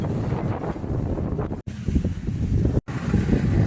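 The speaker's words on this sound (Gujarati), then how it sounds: "અહીંયા પવન બહુ વધારે છે." Strong wind buffets the microphone outdoors in a steady, loud low rumble that drops out for an instant twice, with no voices over it.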